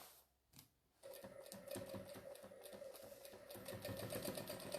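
A sewing machine stitches through quilt seams on a jelly-roll strip tote, starting after a short pause and running in a steady, close, rapid mechanical whir with a faint rattle.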